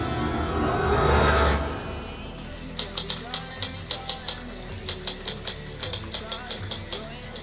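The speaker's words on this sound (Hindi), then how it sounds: "टाइपराइटर की बटन दबने की आवाज सुनाई दे रही थी।" After a swelling musical passage, typewriter keys clack in a steady rhythmic series of sharp taps over soft background music.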